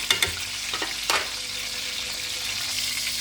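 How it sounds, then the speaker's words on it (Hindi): Eggplant frying in a pan with tomatoes for baingan bharta, a steady close sizzle with a few sharp pops and crackles near the start, no talking. "जलाना नहीं है इनको, बस इनको फ्राई करना है।"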